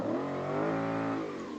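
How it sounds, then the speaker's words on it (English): A V8 truck engine in the BeamNG driving game, in sport mode, revs in one sustained, loud, rising-and-holding roar with a rich layered tone, steady for the whole stretch with no talk. "Oh, that V8 sounds awesome."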